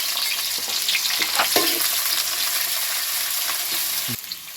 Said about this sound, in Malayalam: എണ്ണ ചൂടായിട്ടുണ്ടേക്ക് വലിയുള്ളി ചേർത്തെടുക്കുക.